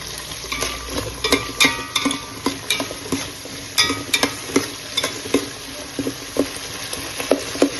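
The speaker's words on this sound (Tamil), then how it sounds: "பச்சை மிளகா நல்லா வதங்கணும். நல்லா இது வதங்கட்டும். கருவேப்பிலையும் கொஞ்சம் போட்டுக்காங்க." Green chillies and fresh curry leaves sauté in a pan for a curry leaves powder chicken fry, a steady sizzle broken by repeated scraping stirs of a spatula, close and fairly loud, with no talking.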